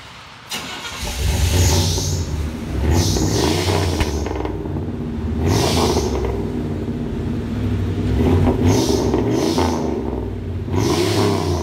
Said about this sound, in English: That nice deep Flowmaster sound everybody's used to.